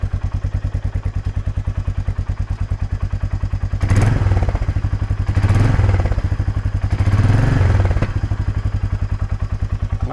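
A Royal Enfield Meteor 350 motorcycle engine thumps steadily at idle and is revved three times, each surge louder and rougher. Fitted hard panniers rattle along with the engine throughout.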